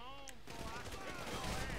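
Rapid gunfire from an improved rifle in GTA V survival mode, a dense, steady stream of shots following a brief moment of game audio, loud and continuous throughout.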